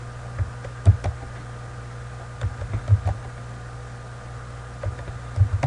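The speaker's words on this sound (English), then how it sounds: "you enter numbers by typing them in and then hit the enter key" Scattered key taps on a computer keyboard as numbers are entered, a few soft clicks in small bursts over a steady low hum, fairly faint and with no talking.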